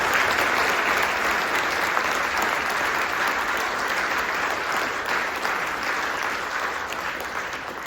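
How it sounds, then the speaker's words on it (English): Sustained applause from an audience at a brass band concert, honouring two young soloists of a junior brass ensemble; steady, dense clapping throughout, fading slightly toward the end. "So I think that definitely deserves another round of applause."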